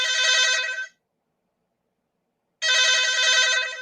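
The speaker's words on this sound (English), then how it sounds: "Sorry, that's my phone." A telephone rings loudly with a trilling electronic ring in two long bursts separated by a silent gap, heard alone and close.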